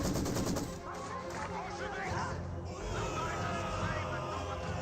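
Maxim and MG42 machine guns fire in Company of Heroes 2 combat, with continuous rapid bursts of battle noise layered under game commentary.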